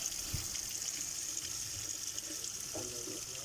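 Water runs from a tap in a steady, fairly faint stream, with a brief splashing surge near the end.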